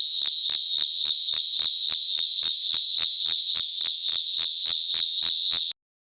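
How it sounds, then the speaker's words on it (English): Bush cicada calling loud and close in a continuous buzzing trill, pulsing in a regular rhythm for nearly six seconds before stopping abruptly. "Bush cicada."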